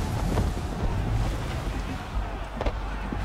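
Sailing ship under full sail in the video game Assassin's Creed III: a steady wash of wind, waves and water rushing past the hull, with a low rumbling bed and no distinct events.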